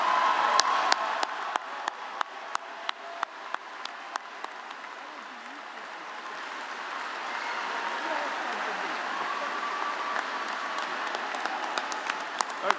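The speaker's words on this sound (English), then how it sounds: "Graduates, give these folks a round of applause." Steady applause rolls through a spring commencement crowd at BGSU, broad and sustained, with a few sharp individual claps standing out near the start, all continuing evenly to the end.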